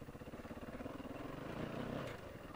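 Enduro motorcycle climbing a steep hill in second gear, its engine droning steadily with a pulsing, rising note throughout, fairly close and continuous with no talk.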